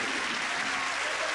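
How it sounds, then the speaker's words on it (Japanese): Dense, steady applause from a theatre audience greeting a manzai comedy duo on stage, a continuous wash of clapping at full strength with no gaps. "たくさんの拍手ありがとうございます"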